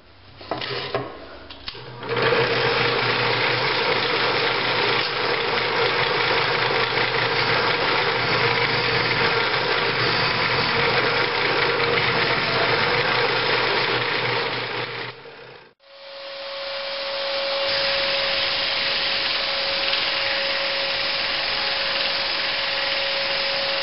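A steady, loud drill whine runs continuously for about fourteen seconds while drilling holes in knife handle scales, cuts off abruptly, then a quieter, higher-pitched machine hum continues.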